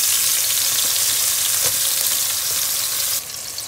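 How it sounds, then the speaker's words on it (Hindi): Onions fry in hot oil in a pot for biryani, producing a loud, dense, close sizzle that drops noticeably in intensity near the end, with no talking. "प्याज को हमने डाल दिया, अब इसे हम गोल्डन ब्राउन कर लेंगे"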